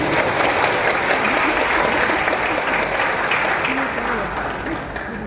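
A large crowd applauds at a university graduation ceremony, with dense, sustained clapping that stays loud and steady throughout, tapering slightly near the end.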